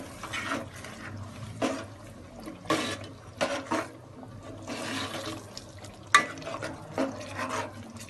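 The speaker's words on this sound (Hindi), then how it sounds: "थोड़ा सा पानी डालेंगे, बहुत ज़्यादा पतला करना नहीं है" Water poured into a thick chakna batter while cooking, heard as intermittent splashing and liquid sloshing bursts with some stirring, moderately close, no talking.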